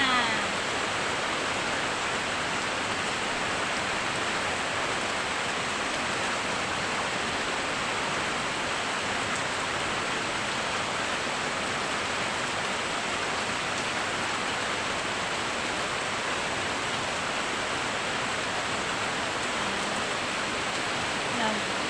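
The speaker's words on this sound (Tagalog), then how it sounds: "Patak ng ulan." Steady rain patters on a house roof, a continuous dense hiss with no breaks for the whole stretch.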